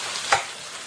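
Mushrooms frying in a pan, a soft continuous sizzle heard up close, broken by one brief louder stir or clatter.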